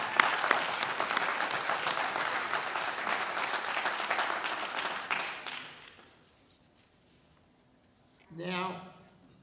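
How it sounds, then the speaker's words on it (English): Audience applause at a Hall of Fame induction event, dense and sustained clapping for about six seconds before fading out, followed by a short closing burst. "I think they deserve a round of applause."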